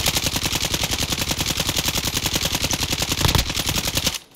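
Rapid, evenly spaced gunfire bursts rattle loudly and close in a shooter video game, a sustained automatic stream of several dozen shots that stops abruptly near the end.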